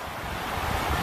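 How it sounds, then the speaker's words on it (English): Ocean surf breaks near a hotel shoreline with steady wind buffeting the microphone, a continuous loud wash of waves building toward the end. "Look at those waves."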